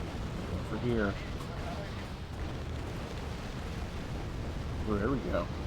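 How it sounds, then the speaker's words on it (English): Explosions in the real-time strategy video game Wargame: Red Dragon, a dense rumbling wash of distant booms under a continuous noisy bed, with short bursts of speech at the start and end. "Those explosions might help."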